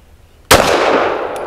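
A single loud, close gunshot from a Lone Wolf Arms Dusk 19 pistol cracks out after a quiet moment, followed by a long ringing, decaying echo of the report.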